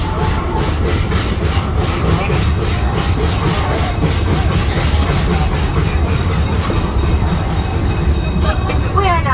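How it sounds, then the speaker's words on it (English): Zoo train ride at Henry Doorly Zoo: a close, loud rolling rumble with a regular clickety-clack of wheels over rail joints, continuing throughout and ending in a brief metallic screech. "We are now approaching our next stop at Kennebec Station."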